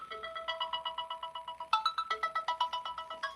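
A phone ringtone plays, a repeating electronic melodic pattern of evenly pulsed tones that shifts partway through, steady and moderately loud without speech.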